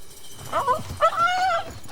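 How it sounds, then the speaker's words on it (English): An overexcited pit mix dog gives a high, strained growling whine in two short bursts, close and moderately loud, with no talking. "The overexcited pit mix Tricky begins to make the high, aggressive growl that Cesar heard yesterday at Susie's house."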